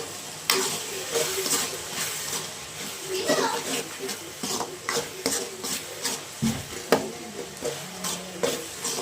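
Potato curry with tomato frying and being stirred in a pan, with soft sizzling and intermittent spoon scrapes and clinks under a person talking.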